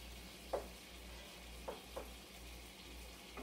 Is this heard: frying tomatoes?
yes